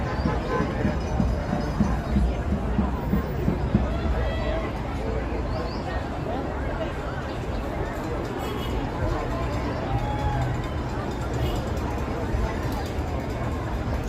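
A crowd of demonstrators at the No Kings rally in Auburn, Maine, a steady outdoor babble of many voices and movement filling the scene, with nearby talk mixed into the broad crowd noise.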